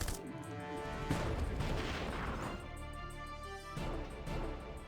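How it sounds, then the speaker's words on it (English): Machine guns in the turn-based war game Battle Nations fire rapid rattling bursts in a couple of loud surges, separated by a brief quieter gap. "machine guns."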